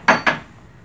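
A spoon stirring chicken with onion, ghee and saffron in a Moroccan tagine pot makes two quick, close metallic clinks against the pot in a quiet kitchen.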